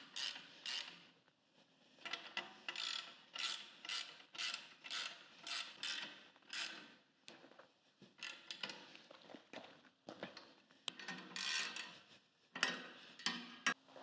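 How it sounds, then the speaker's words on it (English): Cheeseborough clamps on a softbox frame are tightened one after another, giving repeated short metallic ratcheting creaks, close and fairly quiet, with no talking. "now it's time to tighten all our Cheeseboroughs down"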